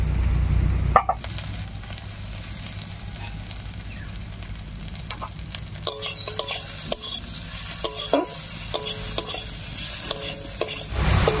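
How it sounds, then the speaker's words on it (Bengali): Potatoes frying in oil over a tempering with salt and turmeric, stirred with a spatula in a village kitchen; a continuous close sizzle with repeated rhythmic scraping strokes against the pan, no voices. "আলুটা বেশ একটু ভাজা ভাজা হয়ে গেছে"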